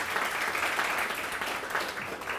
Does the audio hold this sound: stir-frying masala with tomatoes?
no